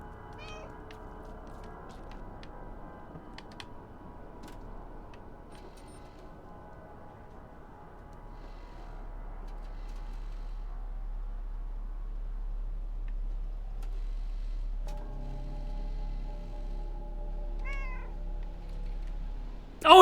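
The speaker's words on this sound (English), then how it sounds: "He would definitely be attacking the screen right now if he heard all these meows." Cats meow repeatedly in a movie trailer, a run of fairly faint, scattered mews that grows fuller and more sustained toward the end, with no talking over it.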